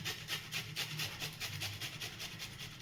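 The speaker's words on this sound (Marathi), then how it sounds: "आता मी इथे एवढा अद्रक हे मी किसून घेणार आहे" Fresh ginger rubbed over a hand grater in a home kitchen, quick steady rasping strokes repeating in an even rhythm, close and fairly soft, no voices.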